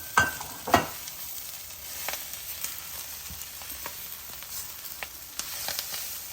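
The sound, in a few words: stirring drumstick leaves frying in a pan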